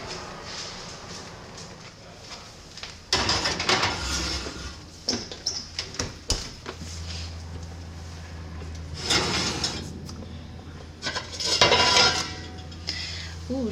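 A heavy lid comes off a pot of sourdough bread baking at 450 degrees: several loud metallic clanks and scrapes in separate bursts, with quieter handling rustle between them.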